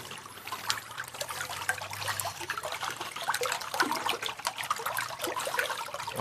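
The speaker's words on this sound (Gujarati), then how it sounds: "એક તો ચાલુ કરી જો પાણી આવવા માંડ્યું" Water gushes from an irrigation pipe at a farm well, a continuous, moderately quiet rushing and trickling flow with no voices.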